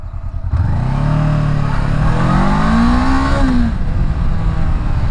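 A Honda CB 500X motorcycle engine sounds loud and close while the bike is ridden, revving up in a rising, steady drone before the pitch drops back, with wind noise underneath.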